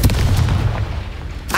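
A Confringo spell explodes in the Hogwarts Legacy video game with a loud, booming blast and a rumbling tail that fades over about a second, then a fresh sharp burst right at the end.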